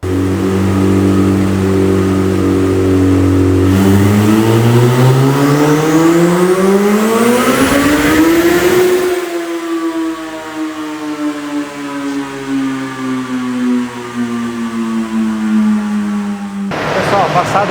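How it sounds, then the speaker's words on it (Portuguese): A turbocharged Suzuki Hayabusa motorcycle runs on a dynamometer, its engine revving loud and close, rising steadily in pitch to a peak around nine seconds before dropping to a quieter, falling whine that winds down, then briefly flares again at the end. "Passada dada no dinamômetro"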